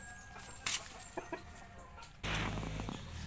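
Brahma chickens, an imported breed kept as pets, cluck in a few short, soft calls over steady background noise, followed by a louder, broadband rush of noise near the end.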